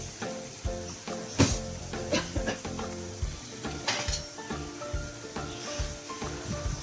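Steady hiss of an onion frying in oil in a pan, with scattered clinks and scrapes of stirring and utensils against cookware.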